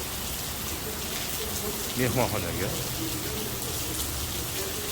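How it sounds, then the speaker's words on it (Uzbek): Steady rain hisses continuously after arrival from the airport, an even wash of noise that fills the whole stretch, with one brief spoken word cutting through the middle. "Bularda hozir 1 soat yomg'ir ekan."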